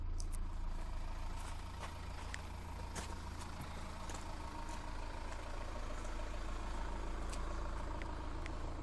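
A Peugeot 607 engine idles with a quiet, steady low hum, and a few faint clicks and taps sound over it.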